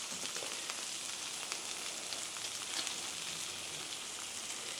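Peppers and onions sizzle on a hot griddle with an even, close, crackling hiss that holds at one level the whole time, with no voices.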